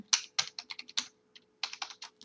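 A password being typed on a computer keyboard during an SQL Server 2022 setup on Ubuntu Server: crisp close keystrokes in two quick bursts split by a short pause, no talk.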